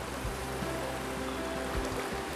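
River water flowing below a small waterfall in a fly-fishing stream, a steady rushing wash with a low constant rumble, continuous and close, with no talking.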